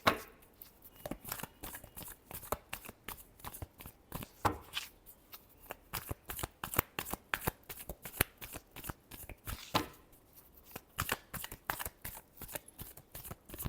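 Tarot cards shuffled by hand, up close, in quick rhythmic riffling bursts that repeat steadily with brief pauses between runs.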